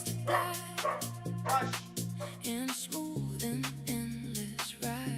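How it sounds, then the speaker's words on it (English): Several dogs bark excitedly nearby, with rapid repeated barks and yips overlapping in a loud, continuous outburst. "My dogs are going nuts."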